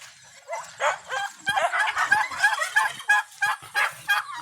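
A chicken being caught on a small farm squawks in repeated loud, close bursts, with sharp cries rising and falling over a few seconds.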